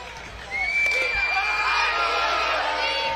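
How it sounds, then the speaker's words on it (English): A crowd in a full gym at a high school boys basketball game cheers loudly, with whoops and children shouting, after a brief quieter moment. "Crowd pumped."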